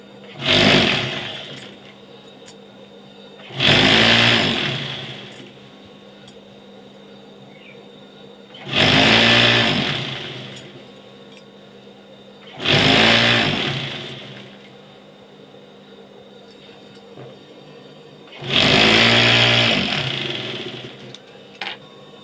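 A sewing machine stitches the side seam of a nightie in four or five separate bursts, each running a few seconds with a steady whirring hum, separated by quiet pauses where only faint handling noise is heard.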